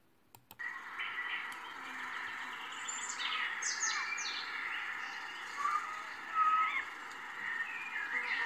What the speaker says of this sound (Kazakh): құстардың сайраған үні